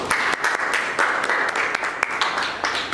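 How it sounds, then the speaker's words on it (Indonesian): Students in a classroom applaud together, a dense burst of sharp hand claps at a brisk, steady rate, close and fairly loud throughout. "Oke, tepuk tangan nak."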